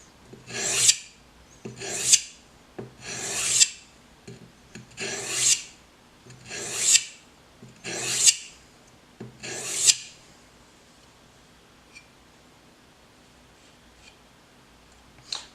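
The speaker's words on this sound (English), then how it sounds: "it is by far the cheapest and easiest way of getting this knife to a razor sharp edge" A karambit knife blade is sharpened by hand in seven slow, even rasping strokes close by, each swelling and fading. Near-silence follows.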